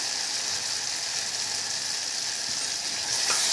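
Garlic, ginger, coriander, turmeric and chili powder sizzle steadily in hot oil in a pan for boiled egg bhurji, a constant bright frying hiss heard up close with no talking.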